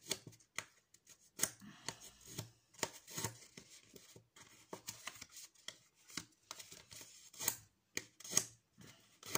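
Scissors snipping through an empty cardboard roll, a quick irregular run of close, dry crisp cuts and rustling scrapes at a fairly low level, with no talking.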